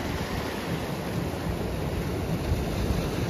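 Sea waves wash in at Mandvi beach in Ratnagiri, a continuous broad roar of surf mixed with wind buffeting the microphone, steady and fairly loud for the whole moment.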